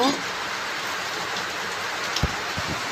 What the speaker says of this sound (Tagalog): umuulan pero umaaraw